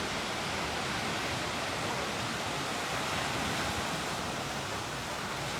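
Sea waves at the beach in Cefalù, Sicily, on a spring day, heard as a steady, loud, broadband wash of surf that keeps rolling without pause and drowns out everything else.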